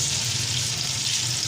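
Onion drops into hot oil for an aloo baingan curry, producing a loud, dense, continuous sizzle and hiss close by with no voices.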